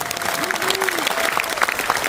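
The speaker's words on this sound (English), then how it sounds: "I want you to give yourselves a round of applause." An audience at a series premiere event applauds itself, steady dense clapping throughout with a few voices calling out over it.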